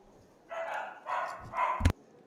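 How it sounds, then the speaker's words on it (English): A dog barks somewhere in the background during a poker tournament in Jeju: three evenly spaced, fairly faint barks followed by a short thump, over quiet room tone. "Oh, we hear a dog in the background."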